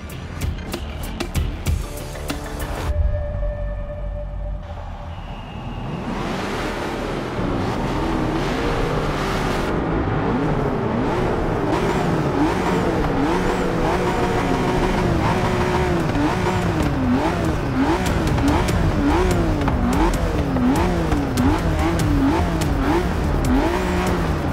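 A 2017 Ford GT engine revs hard in Forza Motorsport 6 on the Watkins Glen circuit, a loud sustained roar with rising and falling pitch sweeps as gears shift, running continuously after a brief quieter start.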